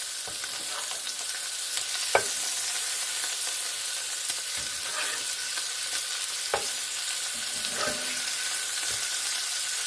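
Burgers fry on a home stovetop, a steady, dense sizzle filling the whole stretch with a few soft scrapes and clinks of a utensil now and then, close and even in level.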